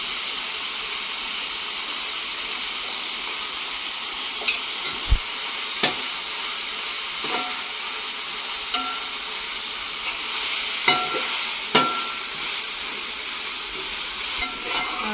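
Garlic, ginger, pepper and turmeric sauté in a pan for a homestyle chicken curry, giving a steady close sizzle with a few sharp stirring clicks scattered through, and no voices.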